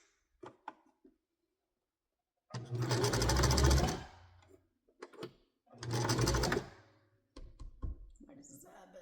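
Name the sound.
sewing machine back-stitching dress pants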